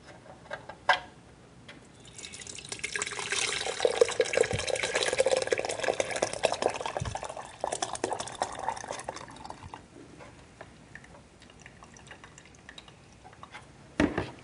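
Thick raspberry Merlot sorbet mix pours steadily into a machine for several seconds with a soft gurgling, sloshing flow, bracketed by a few knocks and clunks.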